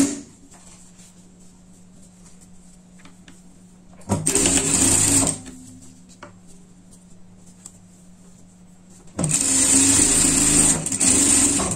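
Sewing machine running in two bursts, about a second and then a longer two-second-plus run, while stitching a seam on the folded binding strip of a pet outfit. A low steady hum sits between the runs.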